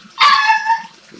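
A dog lets out a single drawn-out, whining bark close by, lasting under a second, with nothing else audible around it.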